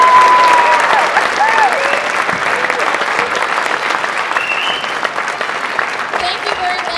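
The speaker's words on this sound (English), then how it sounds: "let's give all of our recipients another round of applause" A school audience at a student recognition ceremony gives the recipients a sustained round of applause, a dense, steady wash of many hands clapping that fades slightly toward the end.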